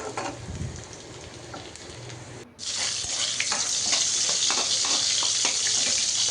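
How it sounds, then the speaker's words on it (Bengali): Chopped garlic frying in oil in a home kitchen: a steady, close hiss of sizzling that jumps louder partway through and keeps crackling evenly, with a few faint clicks mixed in. "আর এদিক দিয়ে রসুনটা আমি ভেজে নিচ্ছি"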